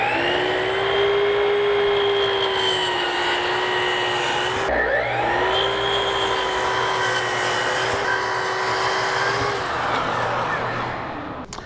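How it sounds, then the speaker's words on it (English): Chop saw motor whining steadily at high pitch, dipping briefly midway as it bites into scrap wood in a workshop, loud and close, with no talk. "I'm going to set up the chop saw"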